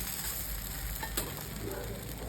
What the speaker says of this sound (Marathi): फक्त तव्यावरती तेल टाकायचं आहे आणि हे बॅटर टाकून द्यायचं.